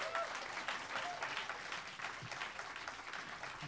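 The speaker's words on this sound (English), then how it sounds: "Could we give one more round of applause to Edith and Pharel?" Steady applause from an evening concert audience of American art songs fills the hall, continuous and even, with faint voices mixed in.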